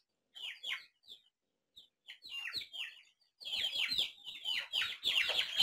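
Aseel chicken chicks chirp in quick, high-pitched bursts that start sparse and become a near-continuous chorus toward the end, fairly close and with no talking.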